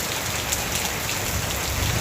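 Heavy rain pours steadily during a cyclone warning in coastal Andhra Pradesh, a dense continuous hiss of drops on surfaces with no talk.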